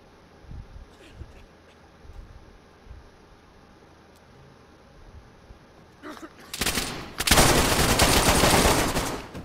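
A suicide bombing explosion in DayZ: faint ambient noise and a few soft clicks, then a sudden loud, roaring blast that stays heavy and sustained to the end.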